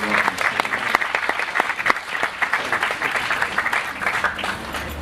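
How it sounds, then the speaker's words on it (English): A crowd at a Ramadan Tent Project gathering breaks into warm, sustained applause, dense continuous clapping from many hands filling the space for several seconds. "give him a warm round of applause"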